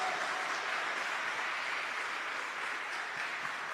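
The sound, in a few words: church congregation applauding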